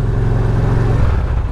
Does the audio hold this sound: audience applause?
no